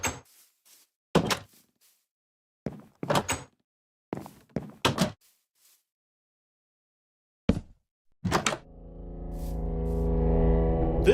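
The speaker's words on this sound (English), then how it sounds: "inside the house, one of the doors can be heard closing on its own, where Micha catches something" Inside a house in Minecraft, a door shuts on its own amid a series of sharp, isolated thunks separated by silence, ending in a swelling low rumble that grows louder.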